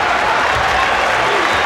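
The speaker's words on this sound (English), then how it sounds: "Crowd looking for some defense here." Basketball arena crowd at an Indiana versus Michigan State college game, cheering and clapping for defense as a broad, steady roar of many voices and hands.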